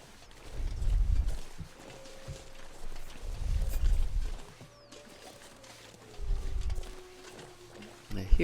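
Wolves in the survival video game The Long Dark give three low, rumbling growls at a moderate distance, each swelling and fading a few seconds apart over a thin wind-like background.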